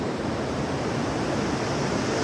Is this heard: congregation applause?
no